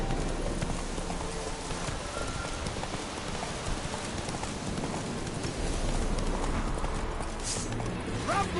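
Roach the horse's hooves clip-clop in Witcher 3 at a steady walking rhythm under rainfall, fairly faint and mixed with the wet patter of rain and ambient game sound.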